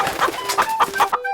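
A chicken clucks in a quick series of short, loud, close calls, about half a dozen in a choppy rhythm with a few tonal squawks, heard alone.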